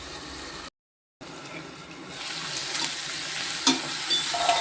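Green chillies, tomato and onion sautéing in a pan, a quiet sizzle that breaks off for a moment, then returns and grows louder, with occasional utensil clinks near the end.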